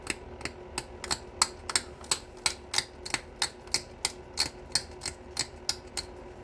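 Obsidian being pressure-knapped to trim the edge of an Elko-type point gives a steady run of sharp, close clicks and snaps, about one every third of a second, with no talk.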